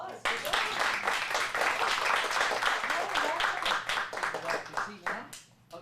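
A small group of kids in an acting class claps in a quick, dense burst that carries on for several seconds before thinning out. Some talk seems to run underneath.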